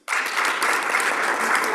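Audience at an event breaking into applause, a sudden, full burst of many hands clapping that stays loud and even throughout.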